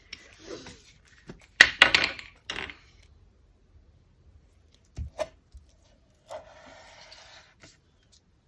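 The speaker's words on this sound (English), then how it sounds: "so I'm going to use my glue stick." A glue stick rubbed over paper while assembling a glassine bag notebook, heard as a few short dry scraping strokes in separate bursts, close and fairly quiet, with no talking.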